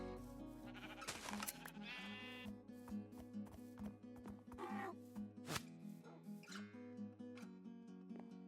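Minecraft donkeys give several nasal, bleating brays over gentle background game music. A few brays are separated by short pauses.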